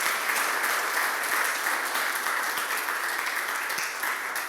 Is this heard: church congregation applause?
yes